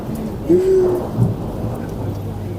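Rain falls steadily in an outdoor thunderstorm, with a low rumble of thunder and a short tonal hoot over the constant patter.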